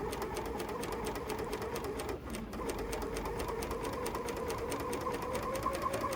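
A BERNINA L460 sewing machine stitching with a gathering foot runs steadily and quietly, a close, even mechanical whir with a fast regular needle rhythm and one brief pause near the middle.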